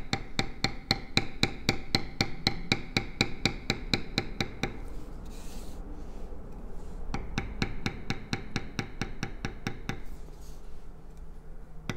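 A bevel tool struck repeatedly with a mallet into tooling leather, sharp rapid taps in steady runs with a short pause midway, close and fairly quiet.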